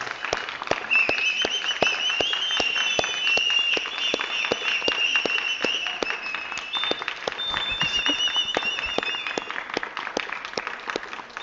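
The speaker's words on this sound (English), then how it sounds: "One more round of applause for us all and for the Supreme Pontiff of Hinduism." A round of applause from a crowd at a yoga event, dense, sustained clapping with sharp individual claps, loud and continuous throughout, with a few high whistles or cheers riding over it.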